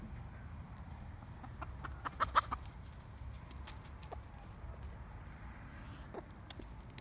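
Chickens cluck softly in the background, with a few brief, slightly louder calls around the middle over steady low rumble.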